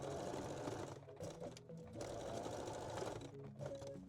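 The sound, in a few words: sewing machine backstitching with a straight stitch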